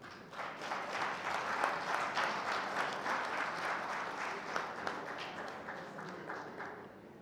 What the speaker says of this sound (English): Please, I need the clapping.